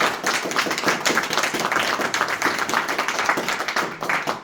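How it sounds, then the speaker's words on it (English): An audience at a Sea Scout Ship 317 Bridge of Honor ceremony claps in a brisk, continuous patter, a moderately loud crowd of hands with no pauses and no voices. "give him a big round of applause"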